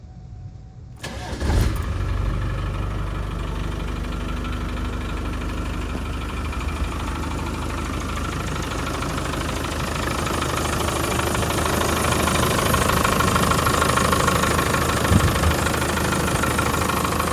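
Cold 1994 Land Rover Defender 90 with a 300Tdi diesel cranking briefly, catching, then settling into a loud, steady, clattering idle that continues evenly inside an enclosed building.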